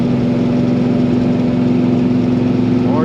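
A 1970 Dodge Super Bee's 383 Magnum V8 runs steadily at about 3,000 RPM, a loud, close, constant engine drone with a strong tonal hum and no talk.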